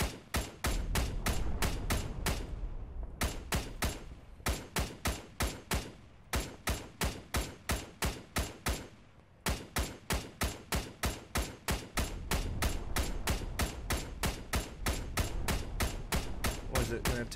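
Machine gun fire in the ARMA 3 video game comes as rapid, evenly spaced bursts of sharp reports, broken by a few brief pauses before the shooting resumes, loud and close throughout.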